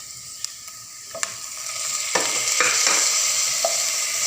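Tomatoes go into a hot pan for soya chilli and are stirred, a close steady sizzle rising louder as spoon scrapes and clinks punctuate it, with no talking.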